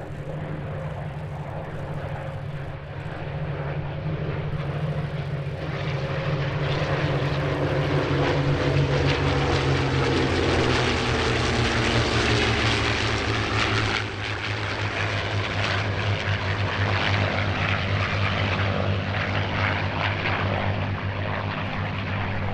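WWII warbirds, a Spitfire, Mustang, FW-190 and Bf-109G, fly at an airshow, their piston engines and propellers droning loudly and continuously as they pass, the roar swelling and shifting in pitch over the whole stretch.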